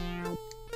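A short synthetic buzz from a bee enemy in the C64 game Giana Sisters 2, a steady tonal drone with chiptune notes sliding over it.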